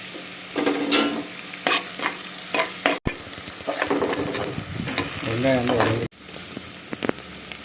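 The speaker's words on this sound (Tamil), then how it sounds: "கொஞ்சமாக இடித்து வச்சிருந்த வெங்காயமும் கட் பண்ண வெங்காயமும் ஆட் பண்ணி இப்போ வதக்குறோம்." Crushed and chopped onions with curry leaves sautéing in a clay pot, a continuous close sizzle broken by stirring scrapes and a couple of sharp knocks against the pot.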